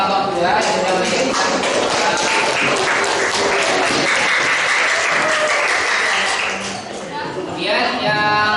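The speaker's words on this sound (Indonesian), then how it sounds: "tepuk tangan semuanya buat kelompok 2" Classroom applause for a student group, a long burst of many hands clapping at close range, steady and loud, thinning briefly near the end before a final flurry.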